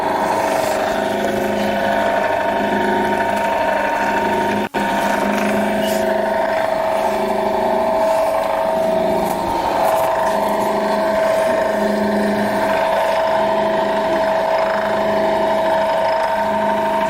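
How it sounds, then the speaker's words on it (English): Power feeder on a spindle moulder runs at low speed, a steady mechanical hum with layered tonal drones and a brief break partway through, close by and continuous. "Okay, we start the feeders to try for feeding."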